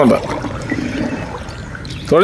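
Oars paddling a small country boat through backwater in a Kuttanad village, giving a continuous watery swish and trickle with voices speaking over it.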